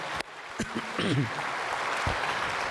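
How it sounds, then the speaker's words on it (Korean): A church congregation claps for Elder Nam Jin after his prayer, a soft spread of applause building after a few scattered early claps, with a voice speaking over it near the start. "우리 남진 장로님 박수 한번 해드리시죠."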